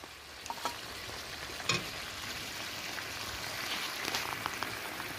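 Meat being sautéed (kosha) in a pan at a rooftop family picnic, a faint continuous sizzle with occasional clinks and scrapes of stirring, close and unaccompanied by talk.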